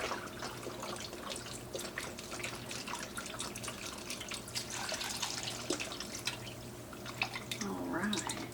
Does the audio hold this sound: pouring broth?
yes